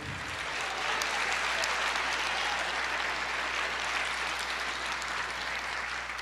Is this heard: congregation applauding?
yes